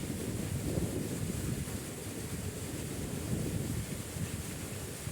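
Water from a solar-powered pump gushes out in a strong stream, a steady broadband rush with a churning low end that stays close and loud throughout, with no one talking.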